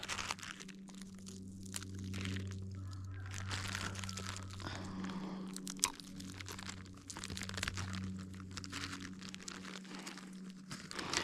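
Someone chews on tree resin gathered in the Alaskan bush in spring, giving close, sticky crunching and crinkling sounds in irregular bursts over a steady low hum.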